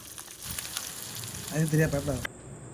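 Small onions sautéing in a pan for a dried anchovy curry crackle and hiss at a moderate level, with a voice briefly speaking over the sizzle before it cuts off.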